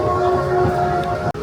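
A small amusement park train ride at Nickelodeon Universe rumbles steadily with a sustained tonal whine over the clatter, loud and close throughout before a brief cut near the end.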